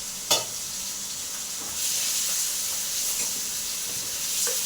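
Cumin seeds dropped into hot oil in a pan, a sharp splash then a steady bright hissing sizzle that continues without talk.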